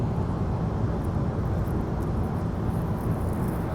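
Steady broadband roar inside an airliner cabin during a flight to Istanbul, a dense constant engine and air rumble heavy in the low end, unbroken and even throughout with no talk.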